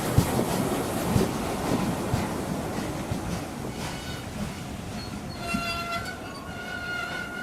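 A steam train arrives, rumbling along with rhythmic clattering of wheels on the track, steady and fairly close, with a thin metallic squeal near the end.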